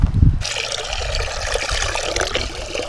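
Water poured into a cast iron pot being seasoned over an outdoor campfire, a steady close trickling and splashing that begins after a brief low thump and carries on evenly to the end.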